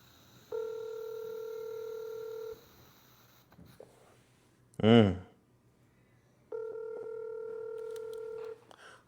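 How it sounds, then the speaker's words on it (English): A phone ring tone sounds twice, each a steady two-second electronic trill, separated by a short loud thump and a quiet pause. "Why is a dead man's phone ringing?"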